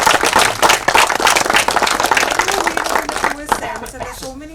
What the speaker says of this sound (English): Can we please clap for Vishal?